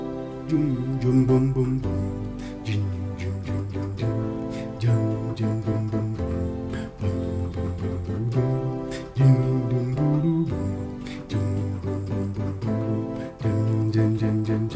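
Sustained piano chords move through a 1-5-6-4 progression, each chord held for about two seconds, full and steady with no voices.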